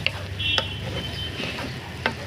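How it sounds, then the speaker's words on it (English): Cherry tomatoes roasting in a pan for an Italian cherry tomato pasta, giving a soft steady sizzle with a few light clicks and scrapes as they are turned, close and alone. "So as these tomatoes are roasting"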